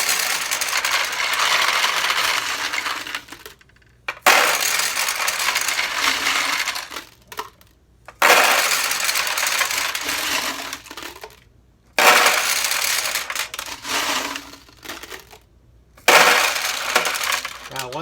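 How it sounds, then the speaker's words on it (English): Steel pachinko balls pour into a Sanyo Comet II pachinko machine in loud, dense clattering bursts of several seconds each, with brief pauses between pours. "I'm going to add some pachinko balls, and this tends to be kind of noisy"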